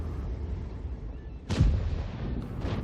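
Artillery in the World of Tanks video game fires once as a loud, booming blast with a rumbling tail, rising over a constant low battle rumble and fading again.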